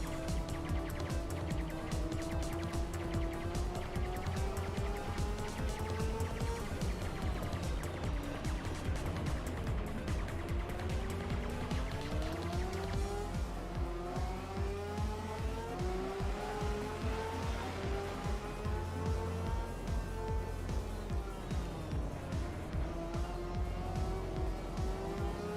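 Motorcycle engines in a PS2 motorcycle racing game: loud, steady engine whine that keeps rising and falling with gear shifts, layered over game music with no pauses.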